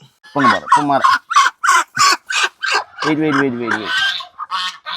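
Geese honk loudly and close by in a rapid series of harsh, nasal calls, several birds overlapping toward the end.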